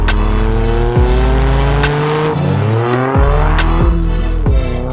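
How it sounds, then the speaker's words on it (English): Toyota GR Yaris rally-bred road car driving hard with a loud, continuous engine note, rising and falling through gear changes and revs, tire squeal mixed in, close and dominant throughout with no talking. "This is my Toyota GR Yaris."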